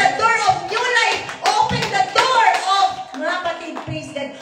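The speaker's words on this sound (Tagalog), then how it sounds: "Clap your hands, clap your hands." A worship congregation claps along in rhythmic bursts, the claps close and loud and mixed with singing or talking voices.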